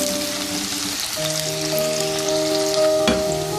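Onions fry in heated oil with a steady, close sizzle and crackle. A sharp tap comes near the end, and no one speaks.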